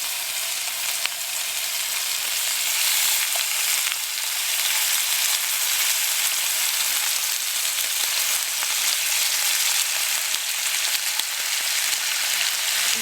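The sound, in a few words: bacon sizzling on an Evil Eyes wood camp stove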